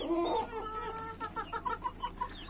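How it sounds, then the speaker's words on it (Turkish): Brown Leghorn hens and a rooster cluck in a short, uneven series of close, moderately loud calls, several rising and falling in quick succession. "Bakın burada 5 tavuk, 1 horoz şeklinde brown ligorinlerimiz."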